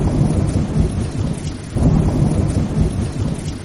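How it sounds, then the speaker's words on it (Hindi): Heavy rain pours steadily while deep thunder rumbles roll through, with a fresh swell of rumbling midway. No voices. "बारिश रुक ही नहीं रही थी।"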